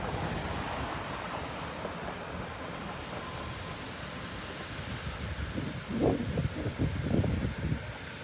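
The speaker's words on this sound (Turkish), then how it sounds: "tam Kozcağız su akan bölümündeyiz" Floodwater rushes steadily through the spillway of Kozcağız Dam near Kumluca in Bartın, a loud continuous roar with wind buffeting the microphone and no speech.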